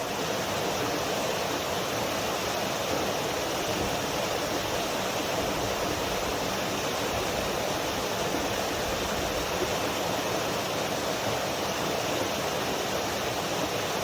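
Steady, loud rushing of a waterfall on a mountain trail beside Cottonwood Creek, a broad continuous roar of falling water with no break and no voices.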